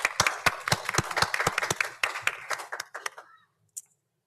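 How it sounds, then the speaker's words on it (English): Applause for department heads at a town board of aldermen meeting, a small group clapping in sharp distinct claps that thin out and stop, leaving silence with one last stray clap. "I'd like to give our department heads here and those who aren't an applause for the job you've done for us."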